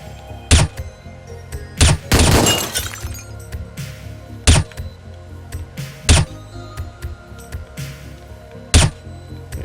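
A video game plays silenced gunshots as several sharp, dry thumps spread irregularly, and one burst of shattering glass comes early. A low ambient hum runs between the shots.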